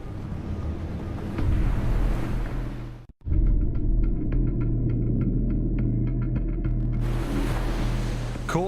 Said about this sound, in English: Caught between the heavy surf and a powerful undertow, Mike Fay is exhausted.